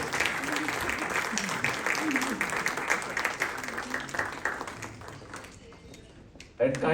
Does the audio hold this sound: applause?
yes